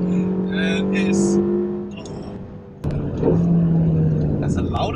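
A 2016 Ferrari California T engine revs hard under acceleration in sports mode, loud rising tones that drop away at a gear change before climbing again, heard from inside the car with a voice talking over it.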